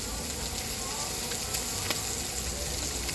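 Steak searing in a pan on an induction hob, a quiet steady broadband sizzle with faint crackles, close and continuous with no talk over it.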